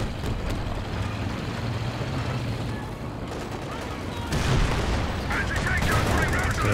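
Tank battle in Company of Heroes 2 with a Panther and Panzer IV trading fire: a steady rumble of engines and scattered gunfire, growing louder with sharper bursts near the end, under a commentator's talk.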